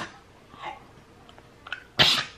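A pet dog gives a single sharp, close sneeze or cough after a brief quiet stretch, a sudden loud burst near the end.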